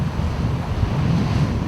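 Strong, steady coastal wind near Monterey Bay buffets the microphone, a continuous low roar with a faint surf-like wash and no pauses.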